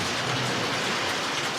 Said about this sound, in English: It's raining from here all the way down to Houston